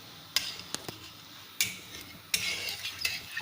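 Metal spoon mashing cooked rice in a pot for Kerala nei payasam, heard as a few soft scraping clinks and taps at close range, with short bursts and quiet pauses between strokes.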